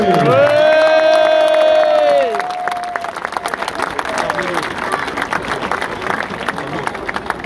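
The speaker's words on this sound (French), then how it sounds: "Un tonnerre d'applaudissements, s'il vous plaît, pour Leandro Morente." A large outdoor crowd on a town hall square applauds and cheers a football player at a club celebration of promotion to Ligue 2 in Martigues, loud continuous clapping and shouting after a sustained horn-like tone at the start.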